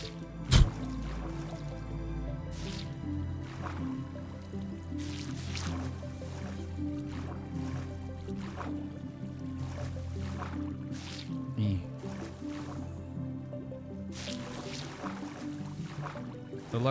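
Flowing water in Minecraft survival, being soaked up with sponges, makes a steady wet gurgling and dripping wash with repeated soft squishy splashes throughout, a sharper knock near the start, under a low constant hum.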